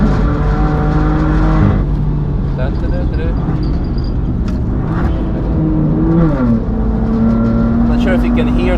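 Inside a Nissan R35 GT-R on the Nürburgring, loud continuous engine and intake roar with shifting pitch as the car accelerates, wind and road noise throughout.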